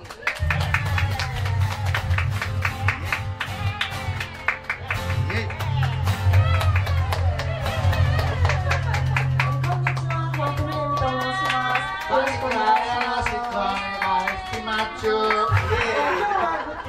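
At a small live-music studio in Senbayashi, Osaka, the audience gives scattered, close clapping and some chatter as the band takes the stage, with instrument tones and a voice coming in over it.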